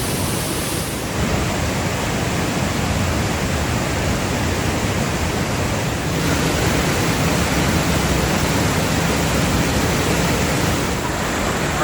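Loud waterfall at Ricketts Glen heard from behind the falling curtain of water, a dense unbroken roar filling the whole stretch with no voices.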